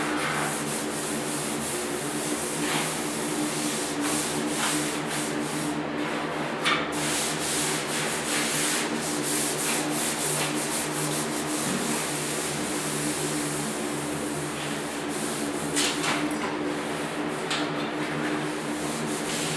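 A power sander drones steadily and continuously, rough grinding against the flat front fender of a 1972 Ford 4x4 truck, close and loud with no talking.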